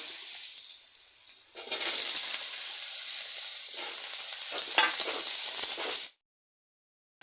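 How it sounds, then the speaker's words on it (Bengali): Potatoes frying in hot oil in a pan give a loud, steady sizzle that swells after a quieter start and cuts off abruptly near the end, with no talking. "তেল গরম হয়ে গেছে এবার আমি আলুগুলো ভেজে নেব"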